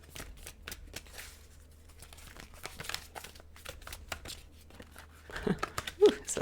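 Tarot cards are shuffled up close in soft, irregular riffles and crinkly slides, with a few sharper flutters toward the end.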